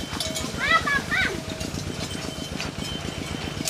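A vehicle engine runs near cattle being herded in a rice field in Laos. It chugs steadily in a rapid rhythmic pulse throughout, while a person speaks over it in the middle.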